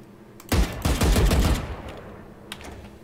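Rapid burst of gunfire from a test weapon in the game Valorant, loud and close, a dense volley of shots for about a second, then one lone shot after a pause.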